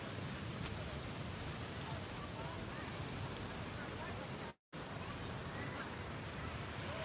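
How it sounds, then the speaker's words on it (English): Wind buffets a microphone outdoors as a loud, steady broadband roar that fills the whole clip, broken only by a brief dropout near the end, with no talking. "Damn wind."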